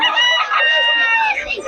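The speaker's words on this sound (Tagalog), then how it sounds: "Malaking manok yan" A large fighting cock crowing loud and close in one sustained crow, with a faint voice underneath.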